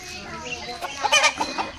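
Caged country chickens give a short burst of close, sharp clucks and squawks, with faint voices behind.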